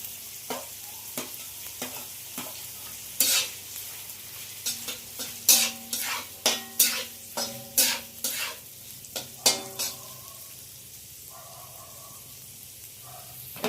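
Capsicum frying in a pan over medium heat for basmati fried rice, stirred with a utensil: a run of brisk scraping strokes over a soft, continuous sizzle, then quieter sizzling alone.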